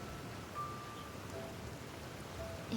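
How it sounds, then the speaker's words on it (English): Soft, steady rainfall in the game Genshin Impact, a faint continuous patter with a few thin tonal blips over it and no talking. "If this rain keeps up"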